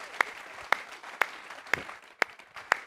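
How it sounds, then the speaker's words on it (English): Applause from a conference audience comes through as sharp, evenly spaced claps, about two each second, fairly faint over a quiet room. "round of applause for Jill"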